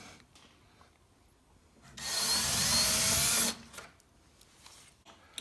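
A power drill bores a small pilot hole in wood, a loud whirring burst of about a second and a half between quieter handling noises.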